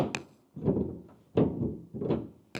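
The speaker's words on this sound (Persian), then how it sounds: "صدای دنده‌هاش" Gear lever of an old Jian car, a 65-year-old model, shifting through its gears, with a few heavy mechanical clunks and thunks spaced about a second apart, close up and with no talking.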